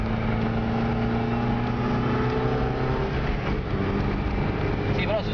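A car engine, from a Fiat Panda and Volkswagen Polo drive in Racalmuto, hums and revs steadily throughout, with a fairly loud continuous drone and faint shifting tones near the end.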